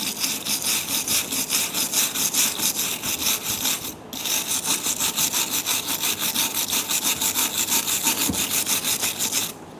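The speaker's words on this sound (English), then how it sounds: "I'm going to use a wire brush to clean these channels." A wire brush scrubs the channels of a front brake caliper bracket on a 2012-2016 Subaru Impreza, making loud, close, rhythmic back-and-forth rasping strokes with one brief pause midway.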